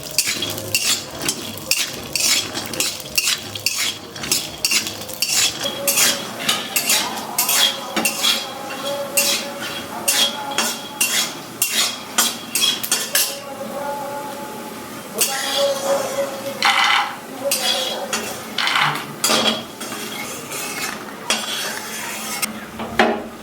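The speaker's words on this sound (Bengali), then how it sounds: "এদিকে চিনাবাদামগুলো ভেজে নিচ্ছি" Peanuts fried in a pan for homemade singara filling, stirred with a metal utensil: busy, close clattering and scraping of metal on the pan in quick irregular bursts, continuing throughout with brief pauses.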